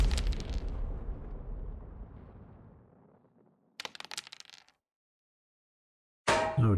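Defensive fire in a game erupts in a heavy, rumbling blast that fades slowly, followed by a short crackling burst of sharp pops and then another loud abrupt hit at the end.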